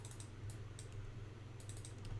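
Computer keyboard and mouse clicks during 3D modeling work in Maya, a few quiet, irregular clicks and taps over a steady low hum, with no talking.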